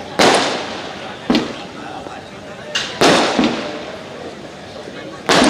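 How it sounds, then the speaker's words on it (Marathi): Firecrackers going off at a birthday celebration for a minister in Paldhi: four sharp, loud bangs at irregular intervals, each trailing into crackle and echo, with crowd noise underneath. "काय फटाके लावले रे"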